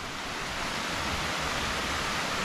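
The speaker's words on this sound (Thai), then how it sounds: "นี่ฮะ น้ำตกบางแป" A steady, loud roar of the Bang Pae waterfall fills the whole clip, dense and continuous with no pauses or other sounds on top.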